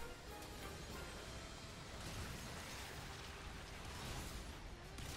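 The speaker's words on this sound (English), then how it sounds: "The cannon shot's pretty effective." Cannon shots in the video game Earth Defense Force 5, a continuous wash of booming explosions and bursts layered densely over one another at a sustained, heavy level.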